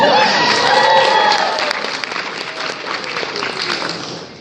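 Convention panel audience breaks into loud, sustained applause with scattered cheers, filling the hall steadily before gradually thinning out.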